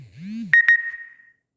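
Mobile phone keypad tones while dialing a USSD code on a handset, two short sharp beeps followed by a sustained electronic tone that fades out, loud and close with no voices.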